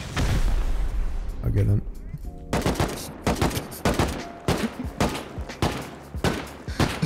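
Gunfire in the game Rust during a base attack, rapid sharp shots in irregular bursts, loud and close, with players talking over and between the shots.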